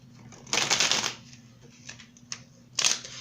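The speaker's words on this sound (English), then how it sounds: "Here we pull some more clarifying cards for you guys." Tarot cards being shuffled and pulled, with a loud riffling burst of about half a second, a few faint taps and slides, then a second short riffle near the end, all close by with no talk.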